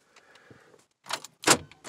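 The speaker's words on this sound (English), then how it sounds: "you stick your key into your ignition switch and turn your ignition on, it locks the doors" Power door locks of a car fitted with a Toyota RS3000 alarm engage as the ignition is switched on, a faint whir followed by two sharp mechanical clunks, close and loud.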